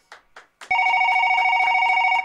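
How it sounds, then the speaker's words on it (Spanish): A telephone rings steadily with a loud, continuous electronic bell tone after a couple of short knocks at the start, heard in a radio studio with no voices over it. "Está sonando un teléfono, no sé de quién será."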